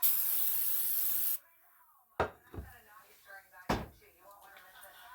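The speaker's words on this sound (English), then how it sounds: "I'm gonna give it a quick spray" Non-stick canola cooking spray hisses onto a Pyrex baking dish in one loud burst lasting over a second, followed by quieter clunks and clatters of the can and dish being set down.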